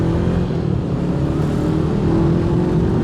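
Honda CB500F motorcycle engine running through its exhaust, a steady, close, loud low drone with even harmonics and no clear rev rise, heard alone without talk.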